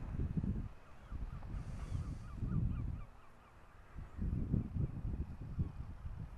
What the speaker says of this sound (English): You can see the swans even more now that they're coming closer to us.